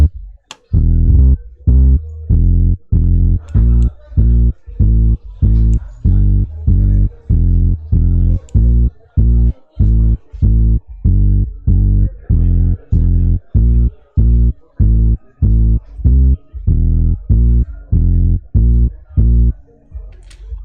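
A Ugandan type beat, built in FL Studio with free and stock plugins, plays loud and steady with a punchy bass-heavy rhythm of regularly spaced hits and melodic layers, no voices.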